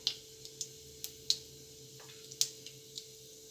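Mustard and cumin seeds crackling in hot oil while cooking Kathiyawadi sev tameta shaak: sparse, faint, sharp pops at irregular intervals over a quiet low hum.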